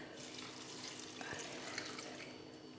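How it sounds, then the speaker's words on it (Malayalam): Water runs steadily onto moringa (drumstick) leaves while four cups are added for soup, a continuous close splashing pour with no talk. "4 കപ്പ് വെള്ളം ചേർക്കുന്നുണ്ട്"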